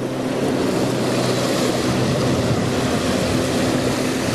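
Ocean waves at the seashore wash in a continuous broadband roar, with steady wind noise across the microphone and no voices over it.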